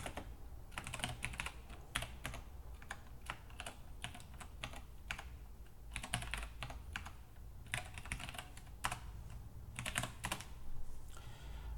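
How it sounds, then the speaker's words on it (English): Steady stretches of typing on a computer keyboard entering commands, close and continuous clicking in uneven bursts over a low background hum. "I will type some password of my choice."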